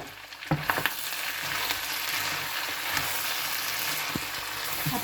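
Pork curry with garam masala and fennel sizzles steadily in a pan while a spoon stirs through it, with a few sharper scrapes against the metal over the constant frying hiss; no one speaks.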